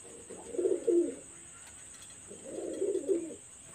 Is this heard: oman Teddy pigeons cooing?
yes